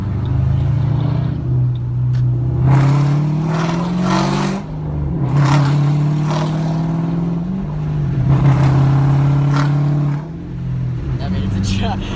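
A 2007 Ford Mustang GT with a loud Pypes exhaust revs repeatedly, its deep, throaty engine note rising and falling several times, loud and close.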